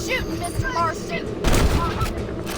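Slowed Dead Eye gunfire in the Red Dead Redemption mobile game: a couple of muffled, drawn-out shots and booms in slow motion, with warped game audio and someone talking over the top.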